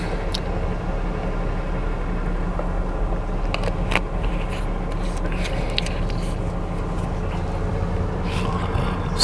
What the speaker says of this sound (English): bus is pulling in.